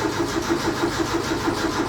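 The starter cranks an old Ford Fiesta Mk2 Ghia with a choke and a mechanical fuel pump after 2.5 years unused, heard as a loud, close, steady rhythmic churning with no catch.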